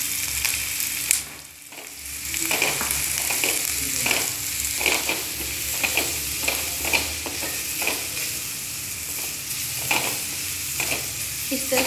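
Carrots fry with onion and capsicum in a pan, a steady sizzle broken by rhythmic scraping stirs every second or so, close and clear with no talking.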